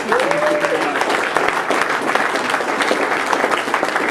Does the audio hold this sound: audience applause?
yes